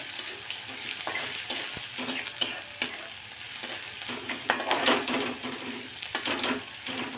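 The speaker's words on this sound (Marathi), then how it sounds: "आता हे व्यवस्थित आपण परतून घेणार आहोत कांदा मिरची आणि लसूण छान परतलं" Chopped onion, green chili and garlic sautéing in a pan, a steady close sizzle broken by repeated scraping stir strokes and light clinks of a spoon against the metal.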